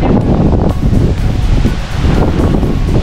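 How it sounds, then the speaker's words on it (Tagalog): Strong, steady wind roars and buffets the microphone on the Lake Erie shore at Westlake, Ohio, with a wash of waves breaking along the shore beneath it. "Ang lakas ng hangin"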